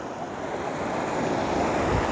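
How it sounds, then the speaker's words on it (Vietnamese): Mountain stream flowing over rocks at Hòn Bà in Khánh Hòa, Vietnam, a steady close rushing of water mixed with wind noise, with no talking. "thấy mọi người nghe tiếng suối chưa?"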